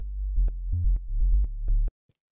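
Synth sub bass built from a square wave through a low pass filter, a deep rounded low note pulsing in a short rhythmic pattern for about two seconds before cutting off.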